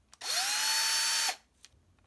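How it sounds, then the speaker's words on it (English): A power drill fitted with a 1/16 drill bit bores through a wall, with one steady, loud, high-pitched whine that lasts about a second before cutting off. A few faint clicks come before and after it. "you can finally get your power drill and your 1/16"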